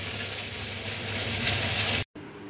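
Ridge gourd cooking with ground poppy seed paste in a pan gives a steady, dense sizzle and crackle that holds loud and close. It cuts off abruptly near the end, then returns quieter.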